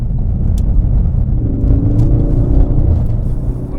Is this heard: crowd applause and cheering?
no